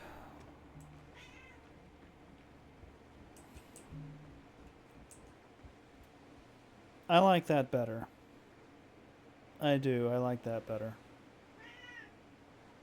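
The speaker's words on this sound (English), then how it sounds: "And my cat is still hungry." A hungry house cat meows in two loud bursts close by, between stretches of quiet room tone, with a person speaking briefly nearby.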